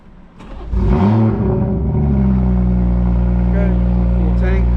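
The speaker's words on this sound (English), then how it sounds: "we're gonna turn on the car" A BMW M240i with a B58 engine running on E50 fuel cranks and fires up, a sharp rising rev flaring loudly before settling into a steady, smooth idle hum close by.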